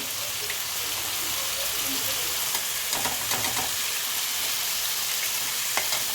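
Chicken pieces shallow-frying in a pan for chicken Manchurian, a steady dense sizzle throughout with a few sharper crackles and pops, close and fairly loud, no talking.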